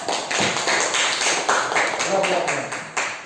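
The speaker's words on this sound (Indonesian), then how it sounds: "berikan tepuk tangan pada kelompok 3" Students in a classroom give a short round of clapping for a presentation group, a quick run of sharp, close hand claps with a voice speaking over them.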